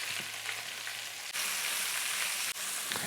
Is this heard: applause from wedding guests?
no